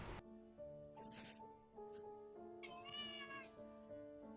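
A pet cat named Octavia meows several times in a drawn-out, tonal way, nearby and fairly clear, over a quiet indoor background with no speech.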